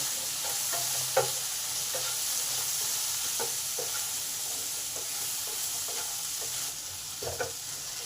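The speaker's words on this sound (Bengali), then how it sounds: "নুন আর হলুদটাকে ভালো করে ভেন্ডিতে মিশিয়ে দিলাম" Okra frying in a pan with salt and turmeric gives a steady low sizzle with repeated light spatula scrapes and stirs, close up and quiet, with no talking.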